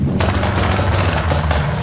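A modified car's exhaust crackles and pops in a rapid, loud, continuous burst of sharp bangs, close by.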